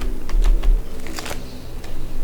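Quick bursts of keyboard typing, several keystrokes clicking close by against a faint background hum.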